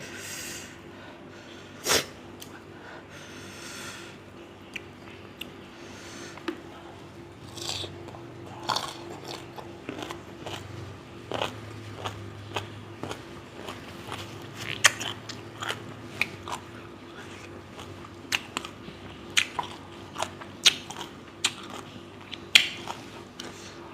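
Someone bites and chews sour green mango with a fermented fish dipping sauce up close. There are sharp, irregular crunchy bites and wet chewing over about twenty seconds, with no talk.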